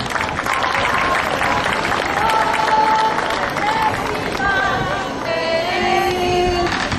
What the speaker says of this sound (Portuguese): Uma salva de palmas ao texto da Santa Chagas.